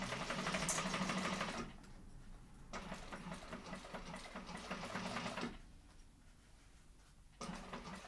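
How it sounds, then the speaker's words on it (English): Close, steady whirring of a sewing machine stitching a row along a seam allowance on thick fabric for a sling bag, running in sustained bursts with brief pauses between them. "I am going to go around this twice with another row of stitching, an 1/8 of an inch in on that seam allowance as well"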